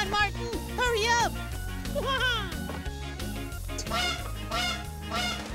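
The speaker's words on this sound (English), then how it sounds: "What could all that squawking be?" Loud honking bird calls in repeated bursts over a steady animated children's nature show soundtrack, peacock squawks in a forest setting with lemurs nearby.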